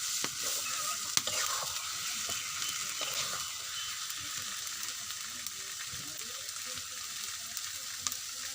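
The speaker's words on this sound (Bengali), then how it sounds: "ভর্তাটা ভালো করে ভেজে নিতে হবে" Mashed leafy greens (shak bhorta) frying in a pan, a continuous close sizzle with scraping spatula strokes and occasional sharp knocks against the pan.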